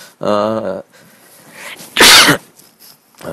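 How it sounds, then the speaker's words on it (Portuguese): A single loud sneeze bursts out close by, following a brief voice, with quiet room noise around it. "a gravação com espirro"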